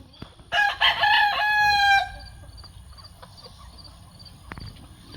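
A rooster crows loudly up close on a farm, one long call that breaks off sharply, followed by scattered soft clucks and shuffling from chickens.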